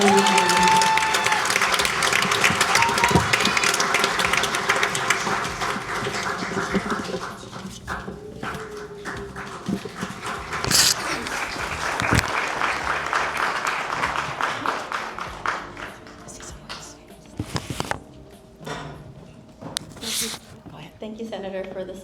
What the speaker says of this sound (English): Big round of applause for Arely.